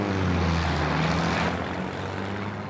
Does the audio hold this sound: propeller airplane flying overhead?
yes